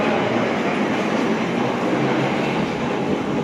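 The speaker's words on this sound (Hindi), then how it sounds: "ये और ट्रेन आई है उस साइड से" A metro train at a busy station in Kuala Lumpur gives a steady, loud rumble of wheels and motors, continuous and broadband throughout, without pauses or distinct clacks.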